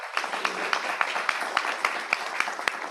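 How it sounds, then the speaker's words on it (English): An audience at an expert meeting applauds to welcome a speaker, giving a moderate, steady patter of clapping with distinct individual claps throughout. "Let's welcome the Jonathan Wapner with big applause of hands."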